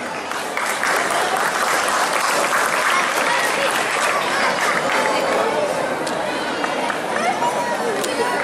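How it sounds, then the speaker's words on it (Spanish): A Honduran audience at a Mexican folk dance performance breaks into loud, sustained applause, dense clapping with cheers and crowd chatter filling the hall steadily from start to finish. "lo recibimos con el aplauso que solo los hondureños sabemos dar"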